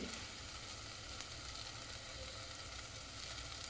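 Asafoetida dropped into hot oil while cooking a white chana curry without onion or garlic sizzles in a dense, even frying hiss that stays close and constant, with no speech.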